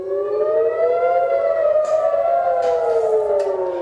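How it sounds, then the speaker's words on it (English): A loud, continuous air raid siren wails steadily in northern Israel, its pitch slowly rising and falling, with faint background noise and no talking. "Sirens were heard in northern Israel early on Saturday"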